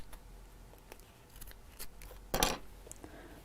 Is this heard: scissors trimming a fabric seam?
yes